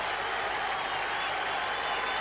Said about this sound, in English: the Greeks are cheering as loudly as indeed are the Londoners